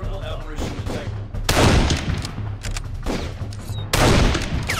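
Assault rifle gunfire in the first-person shooter Darkest of Days, loud full-band bursts of rapid shots recurring in waves across several seconds, with a busy battle din between bursts.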